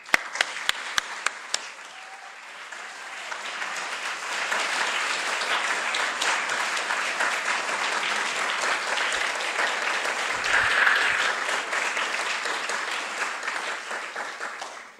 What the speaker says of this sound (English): please, give me a very warm round of applause in welcoming to the stage Maestro James Conl